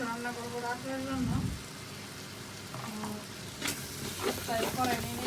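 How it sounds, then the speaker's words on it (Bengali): Spices sizzle and are stirred as they are sautéed in a kadai for a meat dish, a steady close frying hiss with scraping stirs, while a voice speaks briefly near the start. "তাই কড়াই নিয়ে নিলাম এবং মশলা ভালো করে কষা নিতেছি।"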